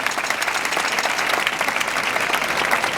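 Audience at a comedy performance in Carcaixent gives steady, dense applause for the local cultural association, filling the whole stretch without speech.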